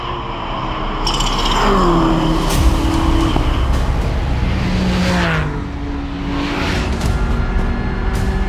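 Porsche, BMW and Audi race cars battle side by side in a VLN endurance race, loud engines roaring and shifting as several cars pass close by, with whining pitch sweeps and no talk.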